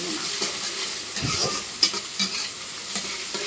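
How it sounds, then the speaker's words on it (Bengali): Onion and green chili fry in hot oil with a steady, bright sizzle, with brief scrapes of stirring over it, part of a village-style ridge gourd fry. "পেঁয়াজ কাঁচামরিচটা তেলের সাথে অল্প একটু ভাজলেই হবে"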